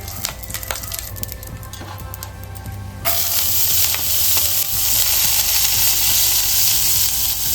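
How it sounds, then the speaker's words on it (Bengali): Garlic dropped into hot white oil for frying in a home kitchen, a steady bright sizzle that jumps louder at about three seconds and continues evenly, with light stirring scrapes. "রসুন একটু ফ্রাই করে নেব আগে।"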